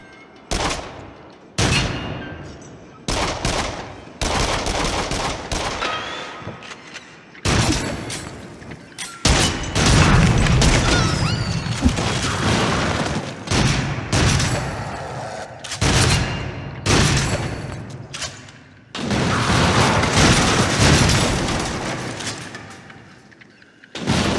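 Repeated gunfire bursts from the PlayStation VR horror rail-shooter Rush of Blood on PS5, loud rapid volleys and single shots spread across a rollercoaster ride, with brief pauses between strings of shots.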